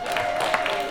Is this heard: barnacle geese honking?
no